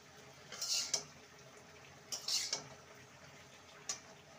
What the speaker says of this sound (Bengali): এবার একটি পাত্রে নামিয়ে আপনাদের সামনে পরিবেশন করব ভেন্ডি আলু ভাজা।